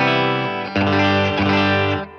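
T-style electric guitar with a flame maple top and chambered alder body, played through a Fender Deluxe Reverb Tonemaster amp: sustained distorted chords with a chorus-like shimmer, a brief break, then a fresh strummed chord ringing out.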